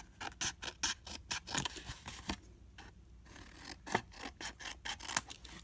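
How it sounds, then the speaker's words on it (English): Scissors snipping through cardstock in a rapid run of crisp close cuts, with a brief pause midway before the snipping resumes. "Still trimming the cardstock."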